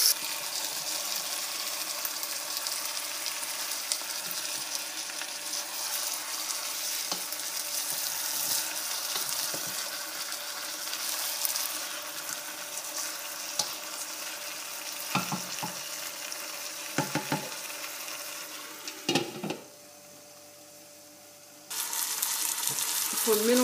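Lamb, onions and spices with a cinnamon stick sizzle and fry in a tajine pot while being stirred, a steady broadband hiss with scraping stir noises, briefly quieting near the end before the sizzle resumes.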